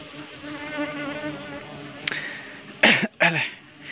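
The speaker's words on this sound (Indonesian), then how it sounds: "Selalu disuguhkan dengan lebah yang galak." Aggressive bees or wasps buzz in a continuous close drone, with a few sharp handling noises and short bursts of sound near the end.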